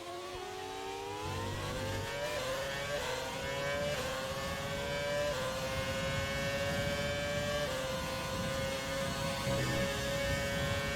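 A race car engine pulls hard in second gear, a loud, steady, high-pitched drone whose pitch climbs gradually with small dips at shifts and lifts, close and continuous with no talk.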